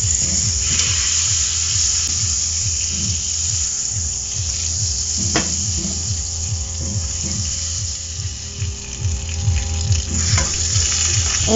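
Butter melts and sizzles in a hot pan as a steady close crackle, with rhythmic scraping or stirring ticks running through it and no talk.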